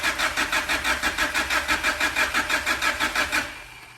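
A supercharged Honda Prelude cranks with a fast, steady rhythmic chugging from the starter, close and loud, before the engine catches and the cranking gives way to a quieter idle near the end.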